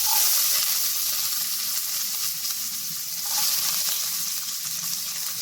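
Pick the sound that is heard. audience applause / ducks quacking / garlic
garlic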